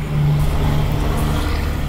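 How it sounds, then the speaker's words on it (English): Steady, loud roar of highway traffic right beside a roadside spot, with a continuous engine rumble and tire noise filling the whole stretch, no voices. "Yeah, I'm right by a highway."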